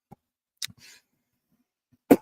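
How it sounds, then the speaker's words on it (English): Two sharp, close coughs separated by a stretch of near silence, the second one louder. "Excuse me for coughing in y'all's ear."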